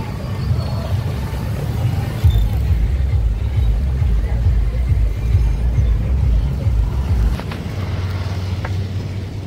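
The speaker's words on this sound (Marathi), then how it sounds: "लय ट्रॅफिक आहे आज" Road traffic heard from a moving vehicle, with a low rumbling roar, wind buffeting and passing engine noise that eases near the end; someone talks over it.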